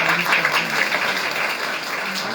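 An audience at an IMC business seminar in India breaks into applause, a dense, steady wash of many hands clapping, loud and close throughout.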